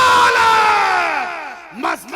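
A large crowd at an Eid Milad un Nabi procession gathering roars back a long, loud collective shout in answer to the Nara-e-Takbeer call, the sound falling away before a couple of shorter shouted bursts.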